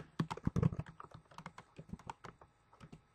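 Close, clear typing on a computer keyboard: a quick run of crisp key clicks in uneven bursts with brief pauses.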